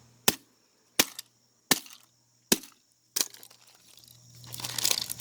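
A cheap plastic calculator is struck hard several times, each blow a sharp isolated crack with brief silence between. The last impact is followed by rattling, crunching debris as it breaks apart.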